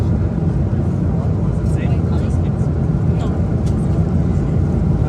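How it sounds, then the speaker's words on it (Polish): Steady broadband roar of an airliner cabin in flight, a constant low rumble and hiss filling the whole stretch, with faint speech underneath. "Witam się z pokładu samolotu."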